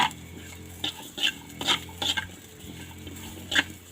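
Chilies being dry-roasted and stirred in a pan for Thai jaew chili dip, with a utensil scraping and clattering against the pan in short, irregular bursts over a faint, steady background hiss; no one speaks.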